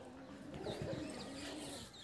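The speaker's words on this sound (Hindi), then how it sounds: "कबूतर भी बेचारे ठंड से सिकुड़ के पेड़ों पर छुपके हुए हैं।" Pigeons cooing softly from trees on a cold, foggy winter morning, faint and somewhat distant over a low outdoor hum.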